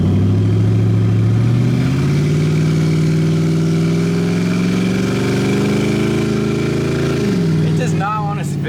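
Ford Crown Victoria V8 held at a steady high rev during a failed burnout attempt, loud and close with a constant drone that drops back toward idle near the end.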